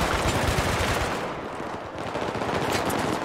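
Gunfire in the video game Battlefield 3, a loud, dense stretch of rapid automatic shots and bursts sounding continuously and up close, with no talk.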